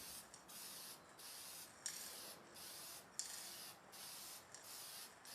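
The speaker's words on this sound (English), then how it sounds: "go for a spray finish. In this case, this is just a crystal clear lacquer." Quiet hissing bursts from a spray gun applying crystal clear lacquer to a custom wooden guitar, on and off in regular passes about every half second, with brief pauses between them.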